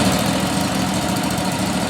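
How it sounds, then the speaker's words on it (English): Two brand-new Ferris Z3X 52-inch zero-turn mowers idle nearby with a steady, loud, low rumble that stays even throughout, and no voices. "I left them idling. You know, these are brand new machines, so I'm still kind of letting them get broke in"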